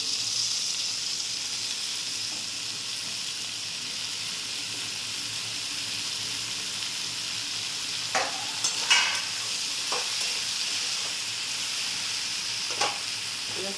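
Eggplant and other vegetables fry with turmeric and salt in a pan, a steady hissing sizzle running throughout, broken by a few scraping stirs and utensil clicks toward the end.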